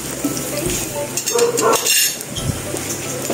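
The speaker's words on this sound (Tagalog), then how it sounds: "Piprito ko muna po lahat." Slices of banana fry in hot oil in a pan for Filipino banana cue, a steady close sizzle with brief clinks of a utensil stirring and turning them.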